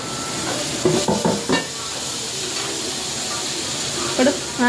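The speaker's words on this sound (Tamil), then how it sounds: "அதுக்கப்புறம் தக்காளியை போட்டுக்கலாம்" Tomatoes go into a hot pan for a capsicum and egg stir-fry, bringing a few sharp clatters and spoon knocks over a continuous sizzling, steamy hiss.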